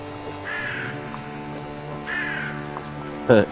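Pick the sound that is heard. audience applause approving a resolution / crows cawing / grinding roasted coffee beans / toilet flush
crows cawing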